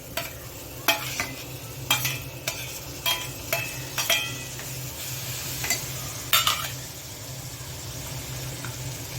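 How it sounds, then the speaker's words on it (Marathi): Cleaned bombil fish are tipped into sautéed tomato and fry with a steady low sizzle. A utensil strikes the pan in sharp, roughly regular clinks as it stirs. "आता आपण हे स्वच्छ केलेले बोंबील याच्यामध्ये घालणार आहोत"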